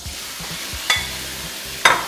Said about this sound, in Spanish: Y tiramos directamente la carne.